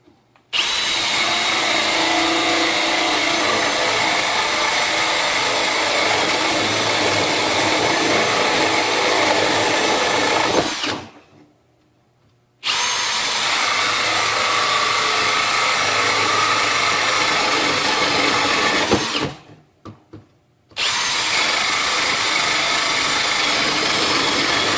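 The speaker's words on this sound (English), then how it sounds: "How about drilling through some particle board?" A Milwaukee M18 hammer drill bores through particle board shelving in two long, loud, steady whining runs, with a short pause and then a brief stop between passes.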